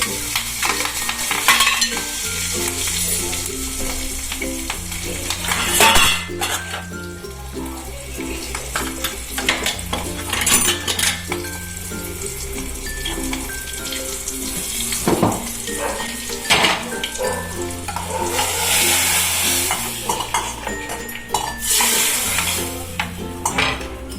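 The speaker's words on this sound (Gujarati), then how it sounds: "હિંગ નાખી દીધી છે." Asafoetida sizzles in hot oil for a sambar tempering, a steady frying hiss under repeated stirring and clinks of utensil against pan, with running tap water at moments and no talking.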